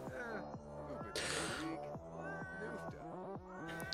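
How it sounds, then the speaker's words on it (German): A cat in heat in The Sims 4 yowls in repeated drawn-out, wavering cries that rise and fall over a background of game music, with a bright noisy burst partway through. "die Katze ist rollig, das ist nicht gut"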